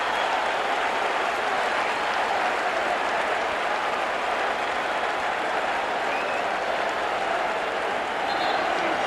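The Lakers home crowd roars and cheers during Game 7 of the 1988 NBA Finals against the Pistons, a loud, constant arena din with faint commentary underneath.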